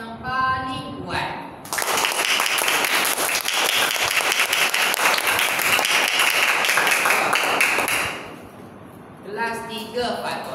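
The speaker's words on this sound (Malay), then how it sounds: "Kelas, boleh tolong cikgu untuk berikan tepukan yang paling kuat?" A Year 3 classroom of children claps loudly and together for about six seconds, a dense burst of hand claps, with a teacher speaking before and after.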